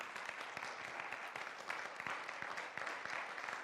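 A church congregation claps for the Lord during a sermon, a dense, steady wash of many hands at moderate distance, continuous throughout with sharp individual claps standing out.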